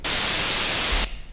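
A louder burst of browser-generated white noise from a Web Audio buffer with its gain raised: a dense, uniform hiss that holds for about a second and then cuts off sharply.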